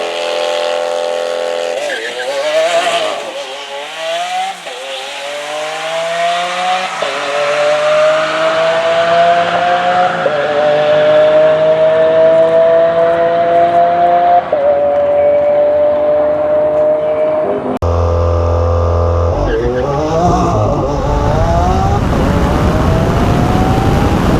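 Drag racing cars launch off the line and scream down the strip, engines revving hard through gear changes with rising harmonic whine, loud and continuous, ending in a sudden cut and renewed roar.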